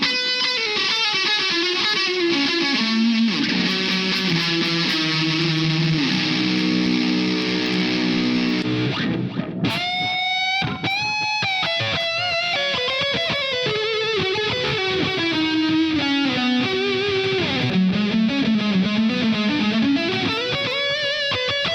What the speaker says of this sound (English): Oh, this is just such a great shoegaze type tone.